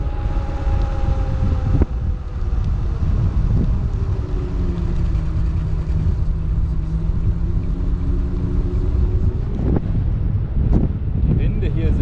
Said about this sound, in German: Die Winde hier sind heftig.